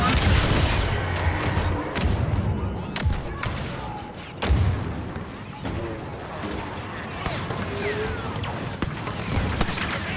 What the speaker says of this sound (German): Granate!